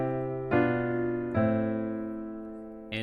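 Piano plays a diatonic 1, 7, 6 chord progression as three sustained chords, each struck and left ringing as it fades, the last one cut short.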